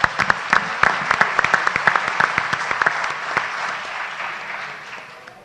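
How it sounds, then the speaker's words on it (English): Audience applause at a board of education meeting, a dense wash of many hands clapping with sharp claps standing out, steady for several seconds then gradually tapering off near the end. "So one more round of applause for 1920."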